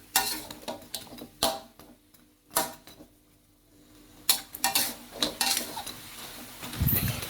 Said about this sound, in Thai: ตามด้วยปลาช่อนทอดของเราลงไปได้เลยครับ ผัดปลาช่อนให้เขา